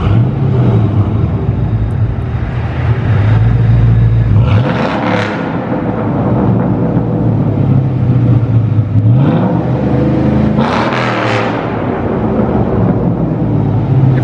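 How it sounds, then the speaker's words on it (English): A Ford Mustang GT with an aftermarket exhaust idles with a deep, loud rumble and is revved twice, each rev rising sharply and then dropping back. The sound is close and powerful, with echo off the surroundings and no talking. "start up and give it a few reps so that you can hear it."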